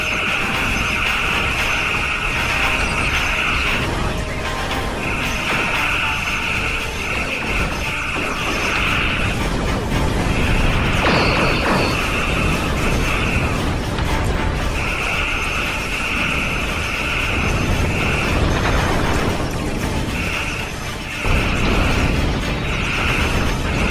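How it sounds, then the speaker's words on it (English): Star Trek Online space combat: repeated whining phaser beams fire over a dense rumble of explosions and ship noise, continuous and loud through the whole stretch. "All phasers fire at will."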